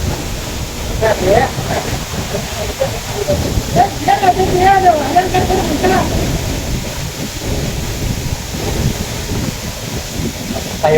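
A waterfall, water pouring down from above, makes a continuous broadband roar close by while someone talks over it.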